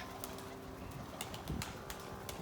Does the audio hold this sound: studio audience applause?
no